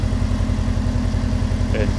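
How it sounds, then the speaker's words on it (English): Rebuilt engine in a Subaru GC8 idling with a steady, low, even burble. The rhythmic pulse stays constant and close throughout, with a brief faint squeak near the end. "for an engine built by a guy who's never built a Subaru engine before, it doesn't run that bad"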